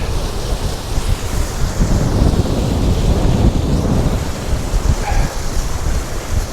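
Surf breaking on a shingle beach at Chapman's Pool on the Jurassic Coast near Kingston, steady and loud, with strong gusting wind buffeting the microphone throughout and no voices.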